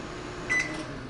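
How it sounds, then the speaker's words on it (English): An Amazon Smart Oven microwave stops on a voice command, giving a single short electronic beep over a faint steady hum. "Just stop the microwave by voice."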